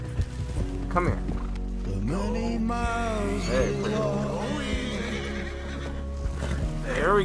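A horse in a video game neighs with a rising and falling whinny, close and clear above continuous background music, with a few hoof clops.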